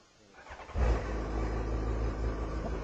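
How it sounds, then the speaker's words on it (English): A 2008 Yamaha FZ1 motorcycle engine with stock exhaust starts up and settles into a deep, steady rumbling idle close by, with slight swells in revs. "it's got all stock exhaust, but still has a big rumble, big engine rumble"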